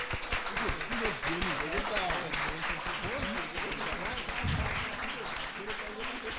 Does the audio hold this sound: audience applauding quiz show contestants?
yes